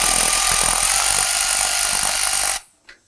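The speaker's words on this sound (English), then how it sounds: "I'm going to back this bolt out." A power tool with a 10 mm socket backs out a grounding bolt on a 2022 Ford Maverick, a loud close whir running steadily for over two seconds before stopping abruptly.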